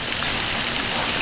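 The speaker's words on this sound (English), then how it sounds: "It's starting to rain." Steady rain falling outdoors, a dense even patter of drops spread across the whole moment, fairly loud with no voices over it.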